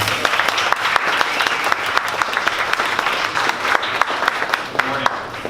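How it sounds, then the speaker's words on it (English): Standing audience applauding steadily for several seconds at a 1 Million Cups startup pitch event in Dallas, dense clapping with a few sharper claps poking through. "can everybody please stand up and give a big round of applause for Raft Up"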